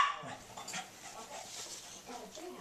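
A Cavalier King Charles Spaniel whimpers and yelps softly indoors, short whiny cries scattered across the moment at low volume, with faint background voices.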